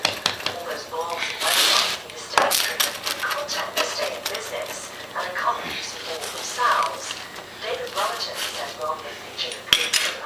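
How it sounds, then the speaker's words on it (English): Knife or cutter slicing through a cooled homemade pizza, with repeated scraping, clicking strokes against the pan and crust, close and fairly busy, and a person talking intermittently over it. "Now I've let it cool a few minutes and I'm going to cut it up"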